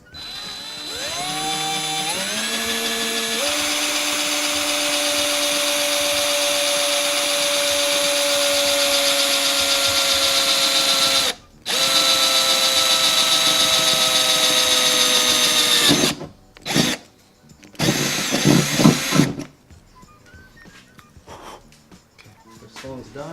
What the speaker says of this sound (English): Alright, gonna get to drilling the first hole.